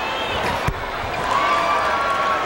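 Crowd noise fills an arena during a 2002 Rutgers at Seton Hall men's college basketball game: a continuous murmuring roar with a brief thud early on, while an announcer talks over it.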